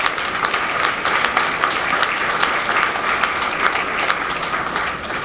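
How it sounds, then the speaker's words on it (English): A crowd applauds steadily, a dense patter of many hands clapping at an even, fairly loud level throughout. "we must give him a round of applause"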